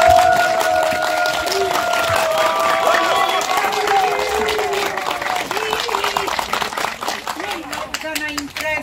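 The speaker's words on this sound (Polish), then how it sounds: "jeszcze raz brawa dla nich" A crowd at an outdoor corn-field rally event claps for the girls, with steady applause and cheering under a loud voice addressing the crowd, trailing off into scattered claps.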